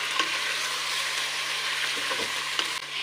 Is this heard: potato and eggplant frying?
yes